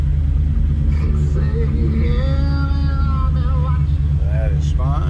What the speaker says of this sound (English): Come down in the low idle once you hear it.